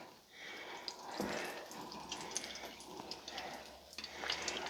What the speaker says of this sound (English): And they'll start frying immediately.